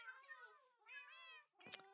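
Cat meowing in Minecraft Java Edition 1.14.2, two drawn-out, wavering meows, close and fairly faint, followed by a short sharp burst, with no talking.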